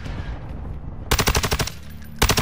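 Rapid automatic gunfire in Call of Duty: Modern Warfare II, two loud close bursts of quick repeated shots separated by a short lull of background game noise.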